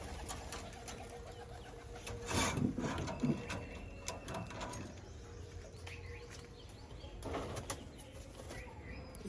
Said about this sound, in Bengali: কবুতরগুলো বের হচ্ছে।